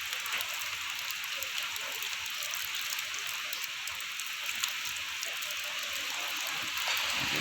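Heavy rain from Typhoon Tino pours down steadily in Santander, Cebu, an even, continuous hiss with no voices.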